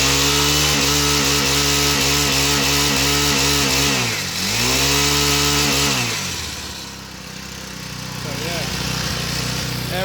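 A small pocket bike engine, repaired after not running, revs hard up to its governor with a buzzy, high-pitched whine, dips briefly, then rises again and settles, loud and close.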